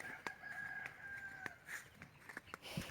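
A rooster crows in a long drawn-out call while other chickens cluck and scratch nearby, with sharp clicks and knocks scattered throughout.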